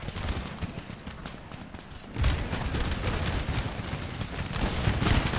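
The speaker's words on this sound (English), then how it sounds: "And gunfire." Musket volleys in an Empire: Total War river skirmish crackle as dense, continuous battle gunfire that swells louder partway through.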